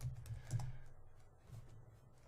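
Quiet clatter of keystrokes as blog post text is typed on a computer keyboard, a short uneven burst of taps that thins out toward the end.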